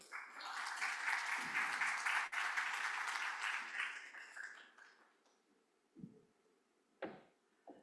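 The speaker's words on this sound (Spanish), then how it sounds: "Un aplauso a la doctora Rosalba." Audience applause at a medical symposium on hypertension, a burst of many hands clapping that swells, then thins and fades out, leaving a few scattered faint claps and small knocks near the end.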